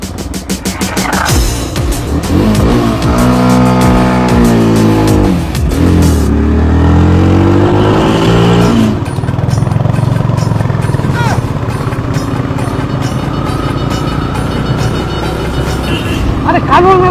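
A motorcycle engine revs up sharply with a climbing whine, then settles into a loud, close riding drone as the bike pulls away, with voices talking over it.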